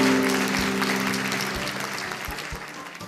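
An audience at a children's quiz show claps together, a dense wash of applause that starts loud and slowly fades over a few seconds, with no talk over it.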